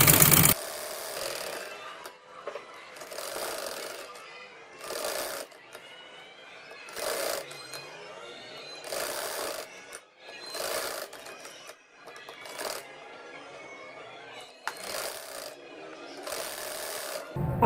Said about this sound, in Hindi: ये सिलाई लगा रही हूँ।